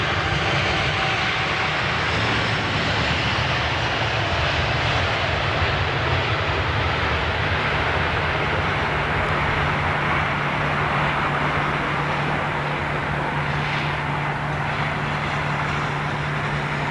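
A Qatar Airways Boeing 777 jet roars steadily as a loud, sustained broadband rumble with a low droning engine tone, constant throughout with no voices.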